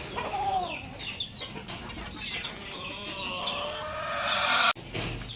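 Backyard chickens cluck and chatter steadily at close range, with overlapping calls and a few higher squawks, and no speech over them.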